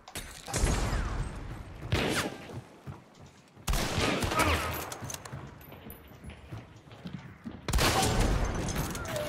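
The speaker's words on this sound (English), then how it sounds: "another one shooting at me from straight east" Gunfire in the video game Hunt: Showdown: a few sharp shots and heavy bursts ring out with echoing tails, mixed with clatter and movement noise and spaced a couple of seconds apart.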